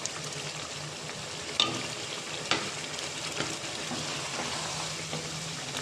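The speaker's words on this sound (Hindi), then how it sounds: "फ्राई की हुई कतलियाँ, यानी आलू, और बहुत हल्के हाथों से आपने इसे पकाना है" Sliced potatoes for aloo katli fry in a pan with a steady, close oil sizzle and crackle, broken by a couple of sharp utensil clicks, with no talking.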